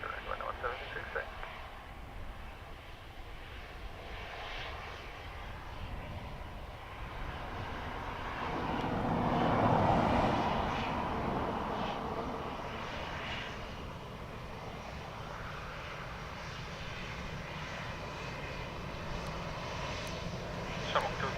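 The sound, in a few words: airplanes taxiing at Dublin Airport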